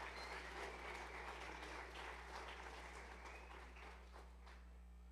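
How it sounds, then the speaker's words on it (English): Applause for a preschool graduating class at a graduation ceremony, a faint, steady patter of clapping over a low hum that thins out toward the end. "let's give a round of applause for Miss T's graduating class"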